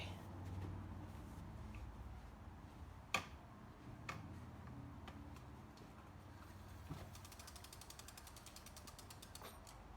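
The lifted rear tire of a SUPER73 electric bike spins freely after a brake pad change. It gives a quiet mechanical ticking and ratcheting with a few sharp clicks and a faint creak, close by, with no talking.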